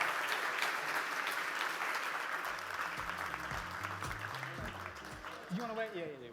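Loud, sustained audience applause and cheering at a startup pitch competition finals night, dense clapping from a large crowd that continues steadily throughout, with a few voices rising over it near the end.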